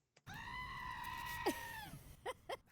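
A goat screams in one long, loud, strained cry close by, followed by a few shorter bleating calls.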